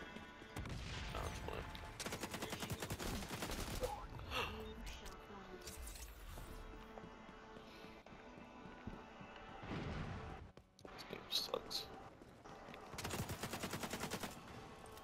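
Bursts of AK rifle fire from the XDefiant shooter game, rapid automatic volleys in several loud clusters with pauses between, mixed with other game effects and a background music bed.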